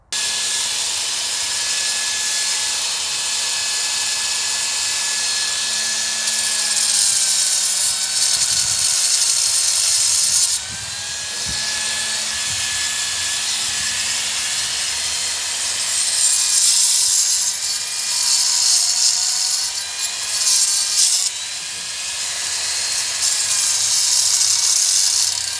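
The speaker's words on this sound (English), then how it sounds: "Always possible to grind down a piece so that it stands" A power tool grinds down a piece of stone for a bonsai planting, producing a loud, continuous abrasive whine that shifts slightly in pitch with brief changes in pressure, steady for the full duration.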